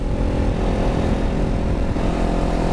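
Kawasaki Ninja 400 motorcycle ridden along a road, its engine droning loud and steady throughout with a dense rumble and a faint dip near the end, no talking.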